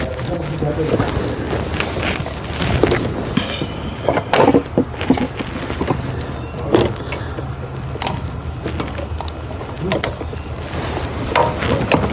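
Hose clamp being fitted on a Saturn Sky engine with an overheating fault, heard as scattered close metallic clicks and ratcheting clanks over a steady background hum, with someone talking throughout.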